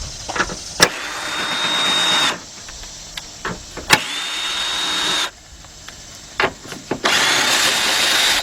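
A Craftsman 19-volt cordless drill backs out radiator fan bolts on a 2006-2010 Chrysler PT Cruiser, running in three loud, close whirring bursts of a couple of seconds each, separated by clicks and clanks of tools.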